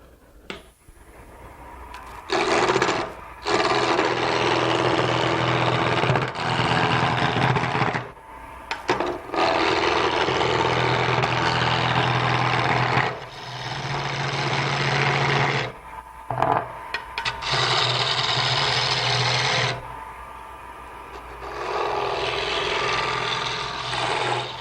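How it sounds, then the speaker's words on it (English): Bandsaw set at 45 degrees trimming the corners off a wooden furniture turning blank, a loud steady roaring cut in several long passes with short gaps between them, close by and without speech. "take your bandsaw, set it on 45 degrees, okay, and bandsaw your corners off"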